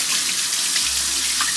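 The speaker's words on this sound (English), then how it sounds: "Now I'm gonna rinse these off, because I forgot to do that with the blueberries." Blackberries rinsed under a running kitchen tap, a steady close hiss of flowing water splashing into a sink, unbroken for the short stretch.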